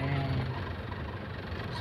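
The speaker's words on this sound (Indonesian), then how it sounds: "Mesin masih halus." A 2009 Isuzu Panther Grand Touring or 2005 Toyota Innova, freshly tuned, runs smoothly while being driven in fourth gear, a steady low engine hum with road noise, heard close up inside the cabin.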